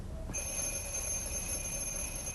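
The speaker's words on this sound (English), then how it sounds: "Bells are ringing." A bell rings continuously with a steady, shrill metallic tone, like an alarm or school bell, sustained after a sudden start.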